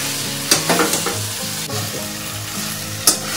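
Pointed gourd frying in a pan as garam masala is stirred through, steady close sizzle broken by scraping clinks of a spoon against the metal.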